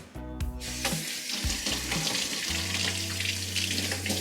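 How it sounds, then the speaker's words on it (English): Water runs from a kitchen sink tap as hands are washed, a close, continuous splashing rush with humming tones underneath and shifting pitch as the flow changes. "I am going to wash my hands real quick."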